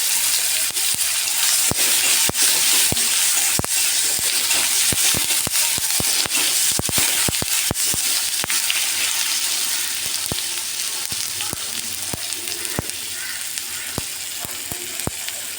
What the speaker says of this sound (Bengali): এবার টমেটো দিয়ে ভেজে নেবো